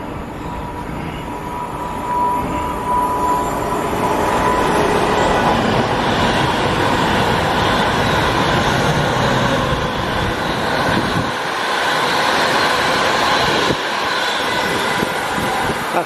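A Pendolino passenger train passes at a rail junction on the Rugeley Triangle, its loud sustained roar and rumble of wheels and wagons filling the air for a long stretch before easing slightly toward the end.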